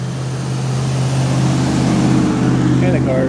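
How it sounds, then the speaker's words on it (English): A car passes close by on a street beside a railroad embankment, its steady engine and tire rumble holding loud throughout while a person talks over it. "And a car is going by too."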